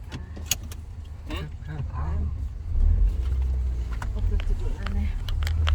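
A car pulls away to start driving, its low engine rumble rising and holding steady under close talk in the cabin, with a few small clicks and jangles.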